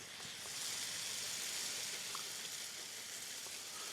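Seared ahi tuna coated in sesame seeds sizzles on a flat griddle just after being flipped, a faint, steady hiss with no talking.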